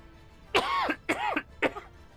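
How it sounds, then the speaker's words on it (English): A person with a lingering cough gives three harsh, close coughs in quick succession, the first longest, with no talking around them. "Still have this stupid cough"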